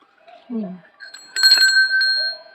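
A brief voice is followed by a bright bell that rings out clearly with a few quick strikes and a lingering metallic ring.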